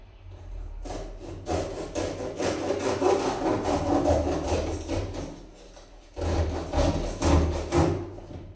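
A hand saw cuts through wood in two runs of steady back-and-forth strokes, close and clear, with a short pause between them and no talking.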